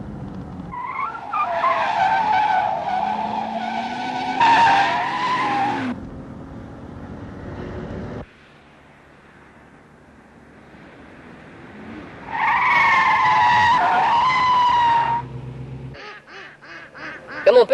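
Tires of a 1973 Oldsmobile Cutlass Supreme screech in two loud, drawn-out skids during emergency stops, separated by a quiet stretch of low engine rumble.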